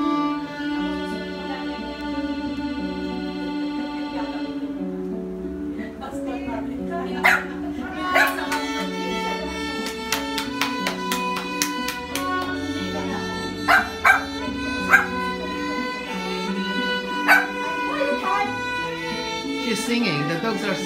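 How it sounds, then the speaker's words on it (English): Several dogs howl and yip along at a thirteenth birthday party, their wavering cries mixed into steady violin-like tones and group singing throughout. "the dogs are singing too"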